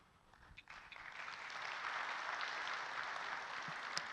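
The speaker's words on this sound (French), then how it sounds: "Je vais vous demander d'applaudir Tunisie Électronique." An audience at a corporate presentation breaks into applause that swells from a few scattered claps into steady, moderately distant clapping.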